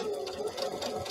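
Sewing machine stitching a fish bag at a widened stitch width, giving a steady close mechanical whir and rapid needle chatter that runs continuously.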